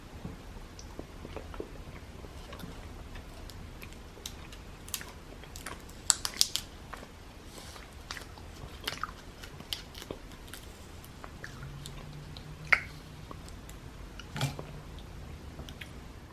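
Someone eating warm roasted chestnuts made on a Dash mini griddle, quiet close-up chewing with scattered sharp crunches and crackles of shell over a soft background hush.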